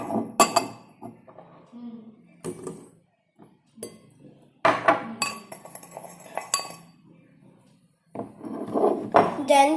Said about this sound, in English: Mix these powders well.